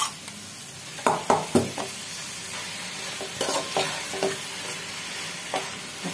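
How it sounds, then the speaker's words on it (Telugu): Mutton frying in a pan with sautéed onions, green chillies and ginger-garlic paste gives a steady sizzle, broken by several sharp clanks and scrapes of a spoon stirring against the pot. "ఇప్పుడు దీంట్లో మటన్ వేసుకున్నాం."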